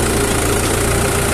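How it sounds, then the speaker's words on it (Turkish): Diesel engine of a TD75D tractor labouring under heavy load while pulling a plough set for deep tilling in a field, a steady, dense, continuous drone filling the whole stretch with no talk. "Traktörü bayağı zorluyor ama bir kere olur bu."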